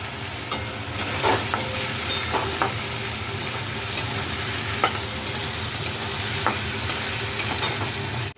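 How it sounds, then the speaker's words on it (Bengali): Ginger and tomato fry in a pan, a steady close sizzle broken by repeated scraping clicks of a spoon stirring, with no one talking. "আদাটা ভাজা ভাজা হয়ে গেছে। এবার দেবো টমেটো।"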